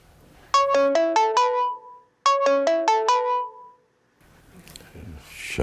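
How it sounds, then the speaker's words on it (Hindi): A mobile phone ringtone plays two loud bursts of a rapid descending chime pattern, ringing unanswered, followed by rustling noise. "शाफिन मियाँ फोन ही अटेंड नहीं कर रहे।"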